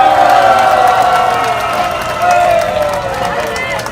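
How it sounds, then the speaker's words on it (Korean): An audience at a Korean political talk gathering cheers and claps, with loud, sustained voices shouting together over scattered applause. "박수 한번 쳐주세요."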